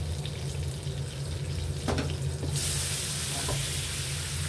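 Pork igado bubbles and sizzles in a pan, a steady close hiss that turns brighter and louder partway through, with a few small clinks.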